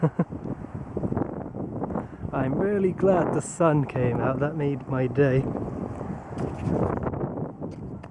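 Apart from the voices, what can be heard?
wind blowing in a valley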